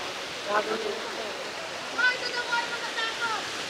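River water at a bubbling spring in Alfonso, Cavite, flowing with a constant rushing hiss, while faint voices speak briefly in the background.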